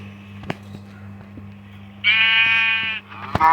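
Minecraft farm animals, a cow and a goat kept in a pen, give a loud bleating call midway, with a second shorter call near the end over a steady low game hum and faint clicks.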